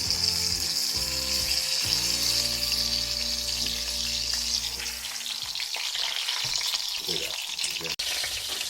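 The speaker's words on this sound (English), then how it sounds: "So I just browned the bottom part." Korean BBQ pork browns in a Dutch oven, a constant bright sizzle of hot fat heard close, with background music fading out midway and one sharp click near the end.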